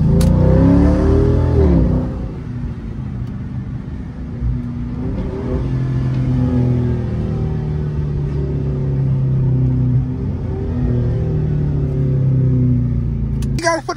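A Dodge Charger SRT 392 with stock exhaust revs and roars hard under acceleration, a deep rumbling exhaust that stays loud throughout, with voices talking over it.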